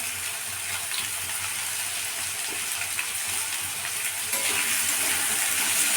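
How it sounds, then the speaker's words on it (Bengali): Food frying in a pan with a little salt, a steady bright sizzle throughout that swells slightly near the end. "এটা ভেজে নিচ্ছি আমি। এতে আমি একটু অল্প নুন দিয়ে দিলাম।"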